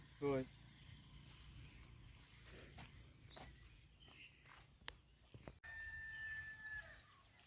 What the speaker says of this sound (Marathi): तिकडे कोंबड्या आहेत